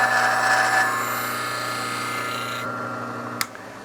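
A woodturning scraper takes a steady cutting pass across a workpiece spinning on a lathe, a continuous rasping hum with the lathe's motor drone underneath, ending with a brief sharp tick near the close.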